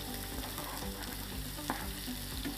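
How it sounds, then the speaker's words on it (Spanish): Diced onion and garlic sautéing over low heat in a pan, a soft steady sizzle with spoon scrapes and light knocks recurring, quiet and close, no talking. "Empezamos a sofreír así, a fuego lento."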